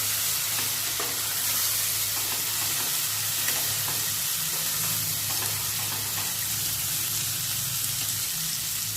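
Ginger and garlic fry in a pan with a continuous, dense sizzle and crackle, steady and close throughout, with occasional faint stirring scrapes and no talking.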